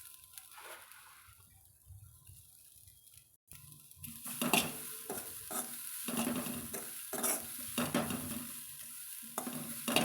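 Grated coconut and ground spices fry lightly in a pan for a Chettinad-style sambar. A quiet start gives way to a louder, steady sizzle with repeated stirring scrapes and light utensil clinks.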